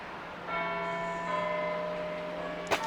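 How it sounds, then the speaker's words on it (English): Church bells ring out on a green countryside walk near a dam, a steady ringing tone with long sustained harmonics, heard from a distance and fairly faint, with a brief knock near the end. "Oh, listen to that. Love me some bells."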